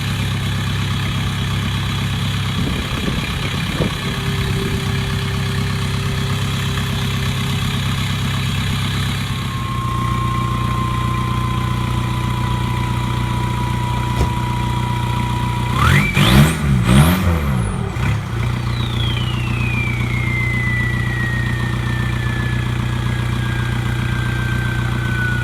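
A 2001 Volkswagen Jetta TDI diesel with a 2.5-inch turbo-back straight pipe exhaust idles steadily with a low, even drone. Midway it revs briefly, and a whining tone sweeps up and then slowly down.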